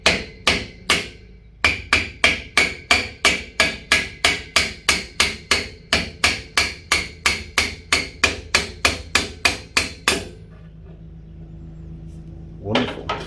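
Hammer tapping a shaft out of a Myford lathe with the shaft held in a vise: about thirty sharp, evenly spaced metallic knocks, close and loud, followed by a short quiet pause and one last faint knock.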